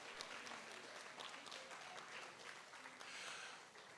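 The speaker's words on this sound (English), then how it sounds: "How about a nice round of applause for Monique Taylor?" An audience at a 2022 seniors kick-off event in Hamilton applauds for Monique Taylor, a steady wash of clapping that holds for about four seconds at moderate distance, with faint voices mixed in.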